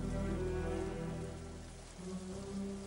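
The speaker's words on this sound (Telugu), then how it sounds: "అయ్యో, వర్షంలో తడిసిపోతోంది రాఘవ." Steady rain pours down without a break, a dense even hiss of drops on surfaces that holds for the whole stretch, with no voices.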